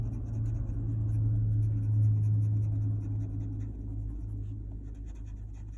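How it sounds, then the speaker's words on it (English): A white colored pencil rubs on paper in an adult coloring book, giving a continuous soft scratchy stroking close up, steady and fairly quiet with no talking. "We're just going to add a little white pencil up there."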